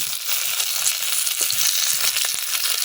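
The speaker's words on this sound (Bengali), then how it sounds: "মাছগুলো কিন্তু খুব সুন্দরভাবে ভাজা হয়ে গেছে।" Rohu fish fries in hot oil, a loud, dense, continuous sizzle with crackles and pops heard up close.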